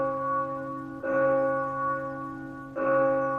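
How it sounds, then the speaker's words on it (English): An old cathedral bell stock sound effect: deep, resonant tolls with a long humming ring, struck roughly three times at slow, even intervals, each strike swelling the sustained tone. "Let's see, Old Cathedral Bell."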